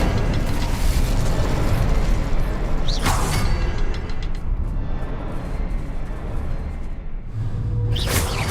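Incendio fire spell blasts in Hogwarts Legacy, roaring whooshing bursts of flame over a dense rumbling bed, with a sharp flare near the start and another near the end.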